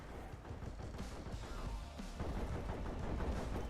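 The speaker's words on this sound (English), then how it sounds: "Hey, that's me you're shooting, mud sugar." Rapid automatic gunfire in the video game Deep Rock Galactic rattles continuously at a muffled, moderate level, dense bursts blending with booming impacts.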